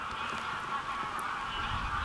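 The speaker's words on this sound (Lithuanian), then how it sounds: "žiūrėkit, kiek paukščių klegi čia nais tolumoj" A distant flock of migrating geese calls along the Danube bank, a continuous faint honking chorus over low background rumble.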